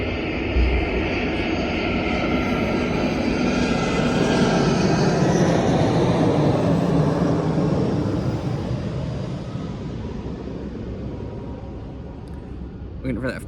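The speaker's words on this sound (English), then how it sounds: "Waiting for that plane to fly over us." A fixed-wing airplane passes overhead as a steady, broad engine roar, loud and sustained before fading slightly toward the end, heard with no talk over it.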